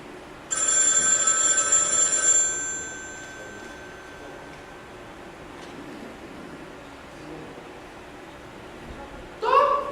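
A telephone bell rings on stage during a school drama performance, one clear ringing burst of about two seconds followed by quiet room noise and a brief voice at the end.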